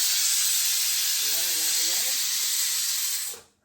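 A pressure cooker releases a loud, steady hiss of steam for over three seconds, then cuts off abruptly, with a brief faint voice partway through.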